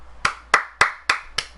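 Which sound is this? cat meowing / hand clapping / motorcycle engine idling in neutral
hand clapping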